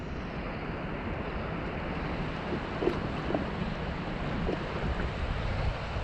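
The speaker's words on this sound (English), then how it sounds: "with this wind blowing straight in my face is, as I said, getting difficult to cast" Wind blowing onshore at Somerton Beach while fishing from land, a constant broad roar of gusts and surf buffeting the microphone, steady and close with no talk.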